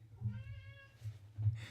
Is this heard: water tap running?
no